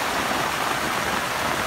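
A village river in Kali Tengah, South Blitar, flows on a rainy day, making a steady, fairly loud broadband rushing of water that continues unchanged with no voices.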